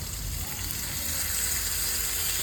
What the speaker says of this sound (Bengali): এবার ঢেলে দিচ্ছি মশলা